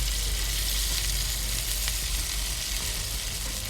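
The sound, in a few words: cut idli pieces frying in oil in a pan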